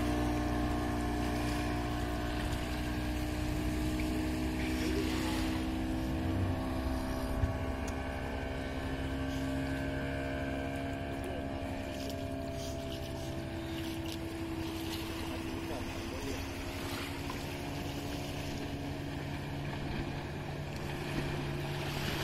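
A motorboat towing a sitting bumper ride at Malvan drones steadily with a continuous engine hum and gently shifting pitch, backed by wind and water noise, moderately distant and with no voices.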